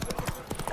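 Roach the horse trots in a video game, its hooves clip-clopping up close in a quick, even rhythm over less than a second.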